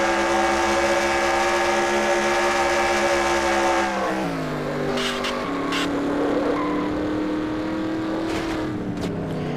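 Onboard engine of the number 92 race truck at Phoenix, a loud sustained roar that drops in pitch as it lifts off, then climbs again with sharp brief bursts on top.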